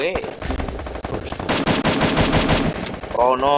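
Rapid automatic gunfire from a shooting video game, with sustained bursts of loud shots forming a continuous rattle through most of the stretch and a brief tonal sweep near the end.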